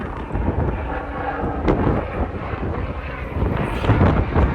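Strong wind buffets the microphone on a ferry departing Campbell River, a steady loud roar with gusty swells and a low engine-like rumble underneath.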